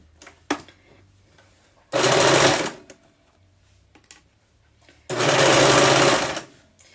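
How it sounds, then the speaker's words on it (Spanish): A sewing machine stitches a fabric pillowcase in two loud, steady bursts of whirring motor and needle, each lasting about a second, separated by quiet handling clicks and soft fabric rustle. "Luego cosemos"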